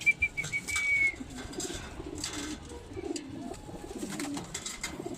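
Taiwan racing pigeons coo softly in a loft, low throaty burbling calls overlapping in the background with occasional wing flaps and a few sharper chirps at the start.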